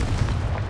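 A Confringo blasting spell goes off in Hogwarts Legacy, a short dense rumbling blast that fills the whole moment, loud and close.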